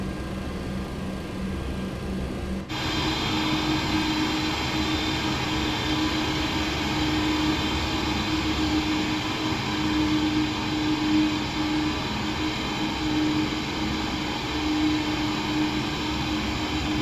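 A TFDI MD-11 airliner taxiing in a flight simulator game gives a steady, loud engine drone with a whine layered on top. It holds constant after a brief quieter start.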